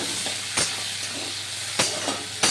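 Tomato frying in hot oil tempered with dried red chilli, a steady broadband sizzle that runs throughout, with a few sharp stirring scrapes that flare louder at intervals.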